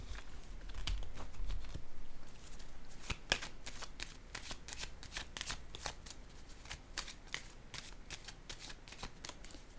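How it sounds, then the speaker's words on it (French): Tarot or oracle cards are shuffled and laid down one by one during a card reading, giving a close, dry riffle followed by a run of sharp, evenly spaced flicks and taps, heard alone with no talking. "Je vais déposer encore une carte."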